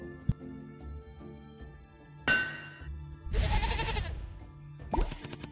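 Sheep bleating in the video game Union of Gnomes, several loud separate bleats in close succession, each a few tenths of a second to a second long, with faint game sounds between.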